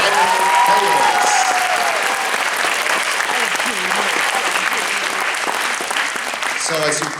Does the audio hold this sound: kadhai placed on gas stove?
no